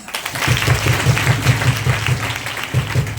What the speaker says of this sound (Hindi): प्रभु यीशु मसीह के लिए जोरदार ताली।